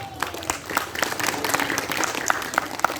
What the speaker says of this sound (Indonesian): Tepuk tangan untuk Darul Hikmah